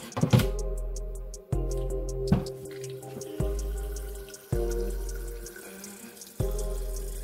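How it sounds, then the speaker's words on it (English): Purified water runs from a tap into a container for soaking sea moss, a close, steady gush that stops and restarts several times with clunks and knocks between the pours. "Then I just fill it with some purified water."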